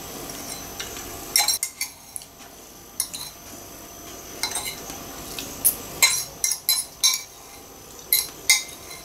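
A fork clinks and scrapes against a plate during a meal of egg with kefir, giving a run of sharp, close metallic taps that come irregularly and grow more frequent toward the end, with no talking.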